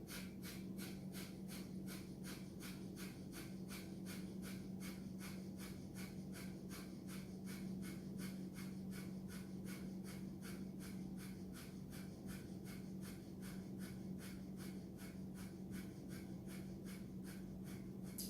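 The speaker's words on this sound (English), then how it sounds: "And begin Breath of Fire." Rapid, rhythmic Breath of Fire yoga breathing from a Kundalini session, quick sharp nasal exhales pulsing about two to three times per second, steady and faint for the whole stretch with no talk.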